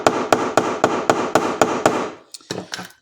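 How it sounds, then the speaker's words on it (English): Steady hammer taps setting a rivet on a Fox axe mask from BattlBox, about eight evenly spaced sharp metallic strikes up close, then a few lighter, irregular knocks. "Gonna use a different hammer this time"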